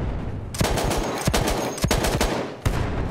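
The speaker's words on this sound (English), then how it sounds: "Enemy machine gun, sighted!" An enemy machine gun rattles in Battlefield 1, firing in sustained loud bursts with sharp individual cracks standing out over a steady wash of gunfire, close and alone without speech.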